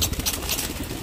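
Pigeons being fed millet, a busy close-up rustle of birds with soft fluttering and scuffling, continuous and moderately loud over a short stretch, with no voices.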